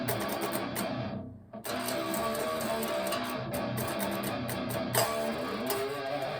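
Heavily distorted electric guitar slowly playing a verse riff on the low sixth string, a dense grinding sequence of chugged notes with one brief gap near the start, loud and unaccompanied by speech.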